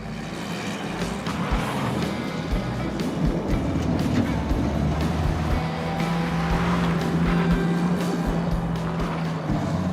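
A Ford Pinto with a 2.3 liter engine drives under hard throttle, a steady loud engine drone with low rumble and road and wind noise that holds throughout.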